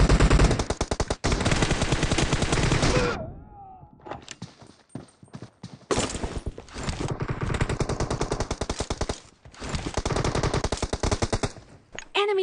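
Rapid automatic fire from an M416 rifle with a red dot sight in a mobile team deathmatch shooter, long sustained bursts with short pauses and a quieter gap mid-way, loud and close.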